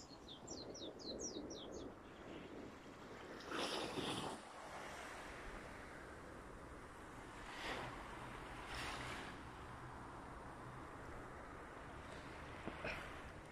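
Waves wash onto a white-sand beach in Japan in a steady broadband rush, with a few surges rising and falling, wind buffeting the microphone and faint bird chirps early on.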